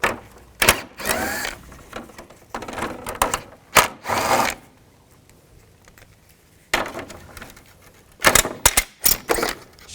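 A ratchet with a 10mm socket removing grille retainers on a 2002-2005 Chevrolet Trailblazer, bursts of quick close clicking separated by quiet gaps, several short runs of ratcheting.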